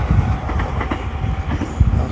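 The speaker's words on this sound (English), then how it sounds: "Wakashio, it's a fast train." A Wakashio express train passes close by in the countryside with a loud, steady rush and rumble, and rhythmic wheel clacks run throughout.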